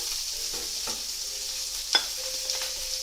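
Spices, including cumin, sizzle and crackle in a hot pan as they are stirred, with one brief scrape of a spoon partway through.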